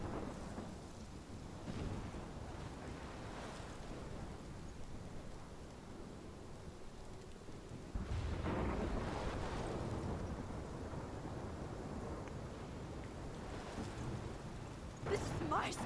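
Thunderstorm in Life Is Strange: continuous heavy rain with deep rolling thunder swelling several times, loud and enveloping, with a sharper crack near the end.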